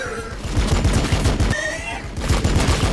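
Rapid rolling bursts of gunfire from units in the Warhammer 40k Battle Sector strategy game, dense repeated shots at steady rhythm, loud and continuous with brief pauses, over a low battle rumble.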